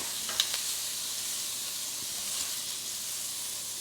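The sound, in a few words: blackened shrimp sizzling in a pan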